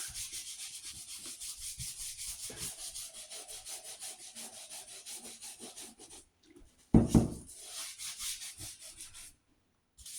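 A brush scrubs leather JK Forefront boots with a Vibram wedge sole on a matted dining table, making close, rhythmic rasping strokes. A brief pause and a louder scuff follow before the scrubbing resumes.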